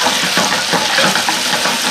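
Bananas fry in butter in a pan, a close, dense and steady sizzle with bubbling crackle throughout, no voices.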